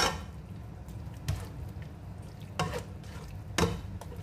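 Beans and broth are stirred in a cooking pot, a low bubbling simmer running steadily under three or four distinct scraping, sloshing strokes of the spoon against the pot.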